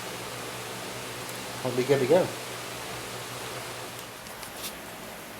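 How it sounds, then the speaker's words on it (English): Background fans hiss steadily as a broad, even whoosh throughout, while a voice briefly speaks over the noise. "sorry about the noise of the fans in the background"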